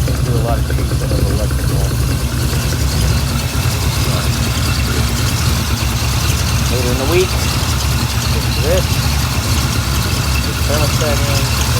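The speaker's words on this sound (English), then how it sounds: "So the car is running very well." A 1975 Chevrolet Corvette idles with a steady, deep rumble held at an even level throughout, while a person talks over the engine.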